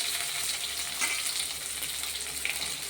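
Onions sizzle in hot oil with mustard seeds in a pan for a chicken gravy, giving a steady, close crackling hiss with small spits and pops.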